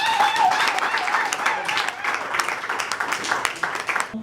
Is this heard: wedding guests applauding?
yes